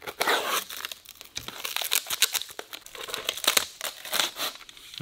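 Sealing tape peeled from the package of an unopened 1968 USAF SRU-15P pilot sleeping bag, a close, loud run of crinkling plastic and tearing rasps lasting several seconds.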